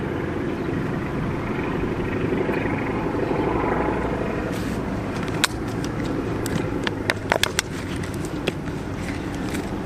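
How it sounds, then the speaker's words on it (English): A single-engine float plane drones steadily at a distance, a continuous hum with scattered sharp clicks and taps near the end. "That's a single engine float plane."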